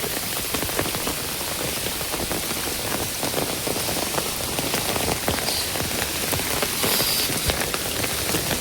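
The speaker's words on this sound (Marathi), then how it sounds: "पाऊस पण खूप आहे मित्रांनो." Heavy monsoon rain falls steadily in the Konkan countryside during a crab-catching outing, a dense, loud, continuous patter on surfaces with no voices heard.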